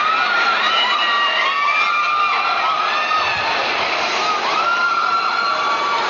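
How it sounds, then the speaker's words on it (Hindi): Riders scream together as a roller coaster suddenly speeds up at a mall amusement park, a loud, sustained chorus of overlapping high-pitched shrieks and yells rising and falling, close and continuous over rushing ride noise. "जब रोलर कोस्टर एकदम से तेज़ हुई तो भाई सबकी इस तरीके की चीखें निकल आई जो आपने सुन ली"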